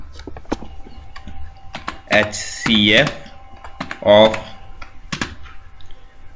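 Someone types C code on a computer keyboard, producing a steady patter of close key clicks and clacks, while a voice speaks briefly in between.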